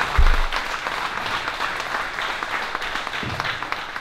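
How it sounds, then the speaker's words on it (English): A room of people applauds at the opening of the Semper Fi Fund segment at the Real Weights for Real Heroes fitness event, a steady, dense wash of clapping lasting the whole stretch with a low thump at the start. "Guys, give her a round of applause."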